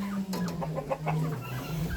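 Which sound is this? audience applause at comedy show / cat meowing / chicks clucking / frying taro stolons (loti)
chicks clucking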